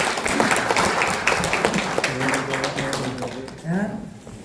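Applause at a Korean newspaper's 20th anniversary ceremony, a dense crowd of clapping hands filling the room, with an announcer's voice speaking over it near the end.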